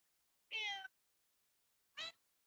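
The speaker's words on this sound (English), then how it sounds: "meow for him" Cat meowing twice, a longer drawn-out meow followed after a pause by a shorter one, close and clear against silence.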